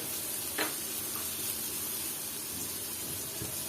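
Pigeon meat with spices being stirred and fried in a pan: a soft, steady sizzle with a few brief scrapes of stirring, fairly quiet and without talk.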